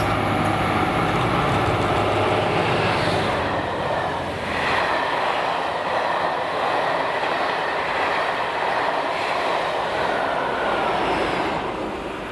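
A train passes through Longniddry station in Scotland, its steady rumble and rolling wheel noise loud and close for the whole stretch, easing slightly near the middle before holding on to the end.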